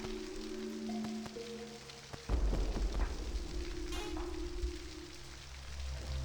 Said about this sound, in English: Did this have rain sounds before?